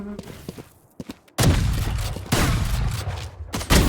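Rapid gunfire from jump-shooting in the video game Valorant breaks out in dense loud bursts after a few scattered thumps and clicks, continuing almost to the end.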